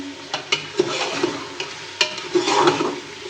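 Potatoes fry in a pot of chicken curry base with onions, a close steady sizzle broken by repeated scraping clinks of a spoon stirring against the pan.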